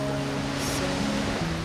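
Waves wash steadily on Lake Tahoe, a large freshwater mountain lake, producing a soft, continuous surf hiss at moderate distance with no voices.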